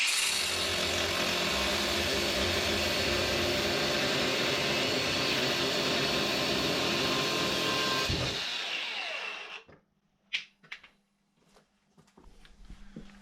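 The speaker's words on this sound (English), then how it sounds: "just run along with the angle grinder," An angle grinder cuts off bolt ends protruding from a repaired floor joist or beam, a loud, steady, harsh whine for about eight seconds that then spins down, followed by a few clunks and light handling noise.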